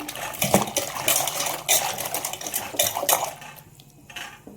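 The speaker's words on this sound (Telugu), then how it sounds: "ఇప్పుడు ఇదిగోండి మంచి నీళ్ళల్లో వేసి మళ్ళీ కడుగుతున్నాను" Raw banana pieces are washed by hand in a vessel of water, with close clattering knocks against the pot and light sloshing in uneven bursts that fade near the end.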